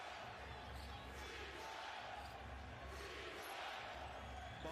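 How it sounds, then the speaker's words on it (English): A basketball arena crowd during a Lakers game swells into a broad, steady roar of cheering, with a low rumble beneath and faint, indistinct voices mixed in. "Now the crowd's getting a little bit more involved"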